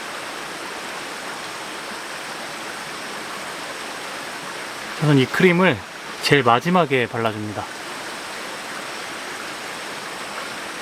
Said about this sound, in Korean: 여기 바로 계곡이 옆에 있어서 잘 때 진짜 물소리 들으면서 꿀잠 잘 것 같아요.